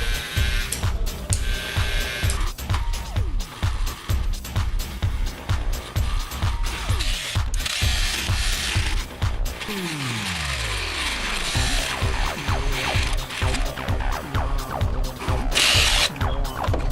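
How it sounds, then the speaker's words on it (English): Small homemade drill machine, built cheaply at home, whirring and buzzing steadily with repeated rattling, ratchet-like clicks and a brief falling pitch sweep midway, close and loud with no talking. "Now drilling machine is ready to use."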